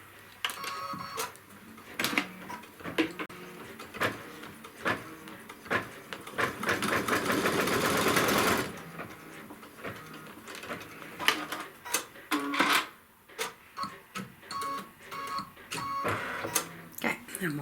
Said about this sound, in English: then it will sew the seam line